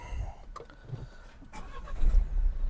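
Renault Megane Limited restyling with a six-speed gearbox cranks and fires up, its engine catching with a rising low rumble that settles into idle, fairly close, with faint background voices.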